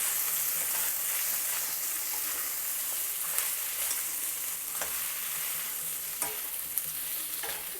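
Spiny gourd slices fry in a pan while being stirred, a steady moderate sizzle broken by soft scraping and clicking strokes of a spoon every second or so.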